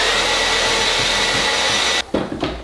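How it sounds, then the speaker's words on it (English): A blow dryer roars loud and steady right beside the hair for about two seconds, then cuts off abruptly, leaving brief rustling and handling noises. "then I use a blow dryer just for like a few seconds"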